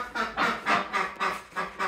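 A pet duck gives a rapid run of quacks, about six evenly spaced nasal calls, close and moderately loud with no talking.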